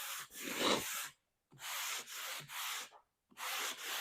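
Sandpaper rubs along plywood edges in three long, steady, close scraping strokes separated by brief pauses, with nothing else heard.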